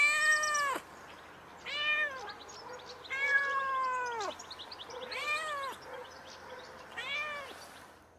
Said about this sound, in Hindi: आपने भी यही पहचाना था कि यह बिल्ली की आवाज है